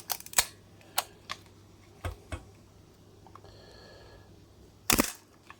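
Shutter of a Praktica LTL3 film camera firing, several sharp mechanical clacks spaced irregularly, close and fairly loud, with a brief faint whir between and a louder double snap near the end.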